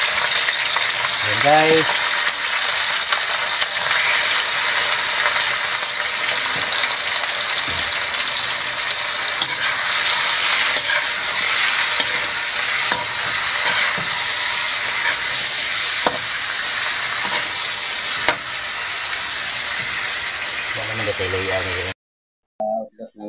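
Garlic frying and being stirred in a pan for a traditional Filipino sinabaw soup, a steady broadband sizzle running throughout with occasional utensil clicks, someone talking briefly near the start.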